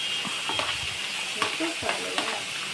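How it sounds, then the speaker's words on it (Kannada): Brinjal and tomato fry in oil in a pan for sambar, a steady close sizzle with stirring scrapes and faint background voices. "ಎಣ್ಣೆಯಲ್ಲಿ ಹಾಕಿ ಉರಿಸ್ತಾ ಇದ್ದಾರೆ"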